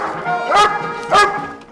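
A Royal Canadian Mounted Police dog, trained to detect drugs and explosives, barks twice loudly and close by, the barks about half a second apart over a low background hum.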